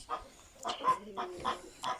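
Chickens cluck in a short series of nearby calls, about five distinct bursts in quick succession with little else around them.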